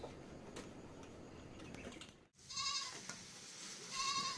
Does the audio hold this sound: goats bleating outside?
yes